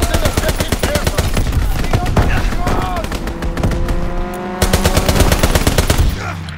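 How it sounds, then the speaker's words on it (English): A fighter plane's strafing run in Call of Duty WWII, shown as dense, rapid machine-gun fire rattling nonstop at close range, loud and relentless through the whole stretch, with a brief swell of engine-like drone underneath. "Fighter pilot inbound. Strafing the target."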